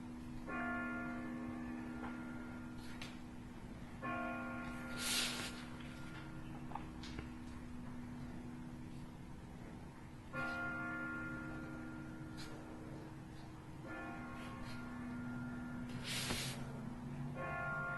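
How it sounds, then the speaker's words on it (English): Church bells ring in repeated bursts of tolling with sustained ringing tones across the whole stretch, over a steady hiss and low background hum, with no talking. "And there's the bells."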